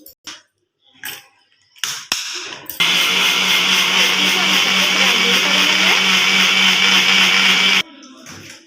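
Electric wet grinder churning soaked rice with a little water into batter for an Odia temple offering, a loud steady whirring grind lasting about five seconds after a few clicks and knocks, then cutting off.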